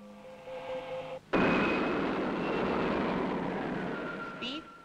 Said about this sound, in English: Prepare for takeoff, Slim.